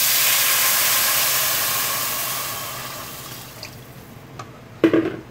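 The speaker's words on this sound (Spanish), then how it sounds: "Y antes de que se dore, pues le agregamos el agua." Water poured into a hot pan of rice sizzles and hisses loudly, the steamy roar fading over several seconds before a few clunks near the end.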